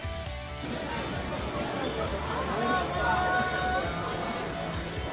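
Steady crowd chatter and hubbub fill a busy Ginza shopping street in Tokyo, a dense wash of many overlapping voices and footsteps with no single speaker standing out.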